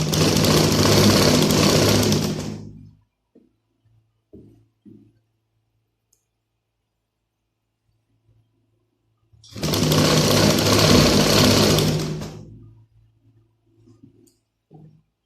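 A sewing machine stitches elastic into a shalwar waistband in two loud, close bursts of rapid mechanical whirring, each about three seconds long, with soft handling clicks in the pauses between them.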